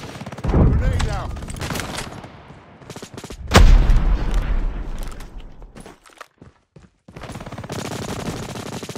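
Gunfire and a grenade blast in a search-and-destroy match of a first-person shooter game, loud bursts of shots followed by a heavy boom, then scattered quieter shots and brief pauses under faint voices.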